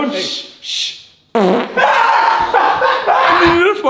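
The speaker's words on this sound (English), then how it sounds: "I needed a fart sound effect." A loud, wet fart sound effect blurts out twice in quick succession near the start, then people laugh and talk excitedly over the rest.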